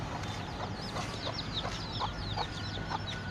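Native chickens kept on a rooftop in Dhaka cluck and chirp in quick repeated calls, close and fairly loud over a steady background hum.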